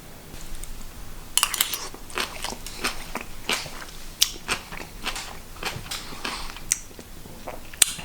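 Biting and chewing acar pickled vegetables, a run of crisp, close crunches at an irregular rhythm over a quiet background.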